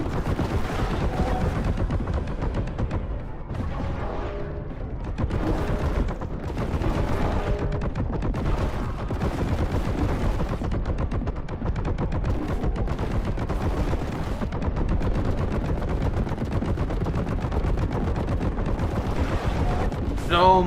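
Heavy bolter gunfire in the Warhammer 40K shooter Boltgun, relentless rapid booming shots and explosions forming a loud, dense barrage that continues the whole time.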